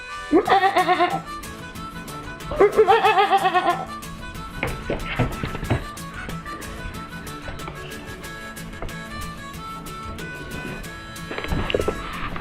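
A baby goat bleats loudly in an indoor lounge, with two long wavering cries near the start, followed by quieter household noises and scattered movement.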